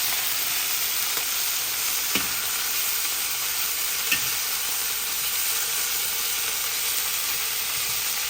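Shrimp sizzle in a hot pan for Kung Pao shrimp, a dense steady frying hiss broken by a few sharp clicks as the pan is tossed, with no voices.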